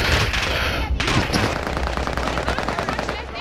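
Automatic gunfire from Call of Duty Warzone rattles in loud, sustained rapid bursts, several weapons overlapping into a dense, continuous firefight with no talk.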